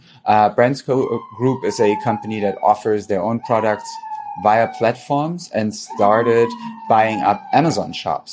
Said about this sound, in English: there's a siren outside. So it's the usual New York siren